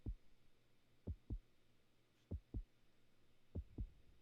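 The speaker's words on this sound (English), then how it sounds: "All I hear is a heartbeat." A heartbeat thumps through a video call in slow paired beats, three lub-dub pairs spaced evenly over a low steady hum, with no talking.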